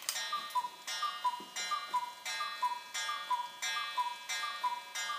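A cuckoo clock with a weight-driven mechanism ticks in a steady even rhythm, each crisp tick close and clear, the escapement making a bright ringing click with no talk over it.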